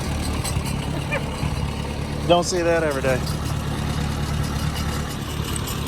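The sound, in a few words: farm tractor engine running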